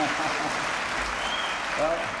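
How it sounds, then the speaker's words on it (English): Audience applause at the 1992 televised vice presidential debate, a steady wash of clapping from a crowd filling the whole short moment at moderate loudness. "I will ask the audience, please do not applaud"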